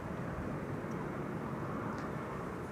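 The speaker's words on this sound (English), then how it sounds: "EasyJet A320neo arriving from Olbia." An EasyJet Airbus A320neo arriving at Amsterdam Schiphol, a faint, steady distant engine rumble with no clear rise or fall over a few seconds.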